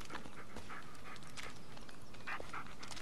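A dog in the Blair Witch video game moves nearby in a wooded scene, giving faint panting and short whimpering noises over a quiet, hissy background.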